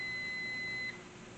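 A kitchen timer beeps while a paleo green coconut curry is cooking: a steady, piercing electronic tone holds for about a second, then cuts off, leaving quiet room noise.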